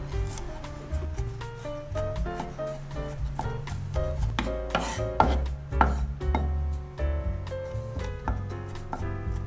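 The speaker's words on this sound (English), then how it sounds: "Mince the garlic up and set aside." Garlic is minced with a knife on a cutting board: rapid, uneven chopping taps in quick bursts, close and crisp, with no one talking.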